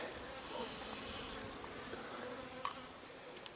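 Bees hum steadily in a low, continuous drone close by around a log hive, with a few faint clicks and rustles breaking through near the end.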